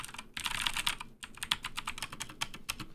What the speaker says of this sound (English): So those are blue switches. The blue switches are very clicky,